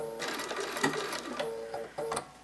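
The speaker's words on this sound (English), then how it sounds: "sew forward a few stitches, back stitch to secure, and keep sewing till I get to the next one" A sewing machine stitches fabric in quick rattling bursts, running forward, pausing briefly, then starting again at close range with no talk.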